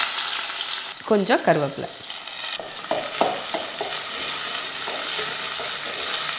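Fenugreek, mustard seeds, urad dal, small shallots and a few garlic cloves crackle and sizzle in hot oil in a pan, with close, busy spattering and bursts of stirring. A brief spoken remark cuts in near the start.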